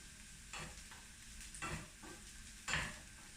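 Chinese sausage fries in a pan and is stirred in three distinct scraping, sizzling strokes spaced about a second apart over a faint, quiet background hiss.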